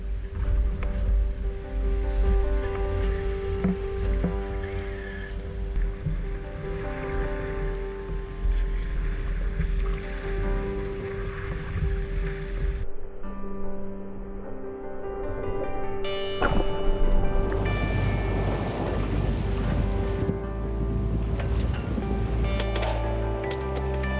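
Sailboat under sail at sea with the jib unfurled: steady rushing wind and water wash, with rigging and hull sounds shifting partway through.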